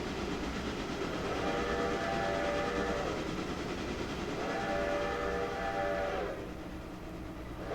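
Train moving forward in the Railroader video game, with a continuous rolling rumble and clattering wheels and two long horn blasts, each lasting about two seconds, fading toward the end.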